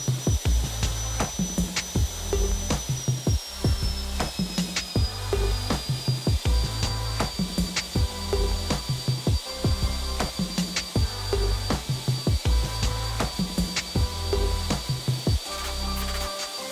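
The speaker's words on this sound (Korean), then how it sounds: "철판을 도면에 명시된 대로 일정한 간격으로 마그드릴을 사용해 구멍을 뚫어줍니다" A magnetic drill bores holes in a steel reinforcing plate on a building job, a whining motor with a slowly falling tone and repeated grinding, thudding bursts at an irregular pace, close and fairly loud.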